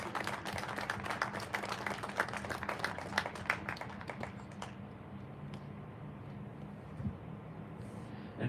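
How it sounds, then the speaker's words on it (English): Audience at a sports awards ceremony applauds trophy recipients, a moderate crowd clapping in a reverberant hall that thins out and fades to near silence after about four seconds, with low room hum underneath. "Let's give them a round of applause for a great run."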